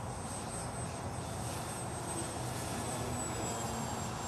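Engine of a radio-controlled Park Zone F4U Corsair model airplane in flight during aerobatics, a steady, continuous electric whine with a faint high tone held throughout, moderately loud and unbroken, with no talk.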